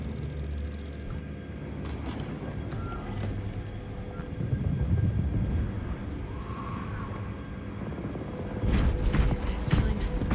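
A gunship aircraft in Warhammer 40,000: Space Marine 2 touches down with a continuous loud engine rumble and roar that swells toward the end, under game noise.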